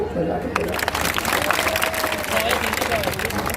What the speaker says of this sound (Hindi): इनके लिए भी ताली हो जाती